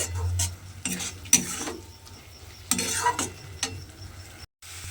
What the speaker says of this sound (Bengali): এবারে আমি এই যে চিনির রসটা আছে এটা একটু শুকনো করে নেব।